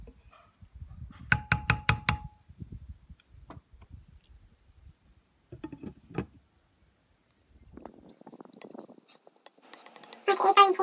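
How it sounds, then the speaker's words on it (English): A spoon stirs a pot of cauliflower curry with tomatoes, making scattered scraping clinks and soft wet squelches that come in short bursts with pauses between them. "it is very important you do keep stirring your pot"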